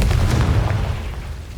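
A Confringo fire spell exploding in Hogwarts Legacy, heard as a heavy, booming blast that rumbles loudly and fades slowly over a second and a half.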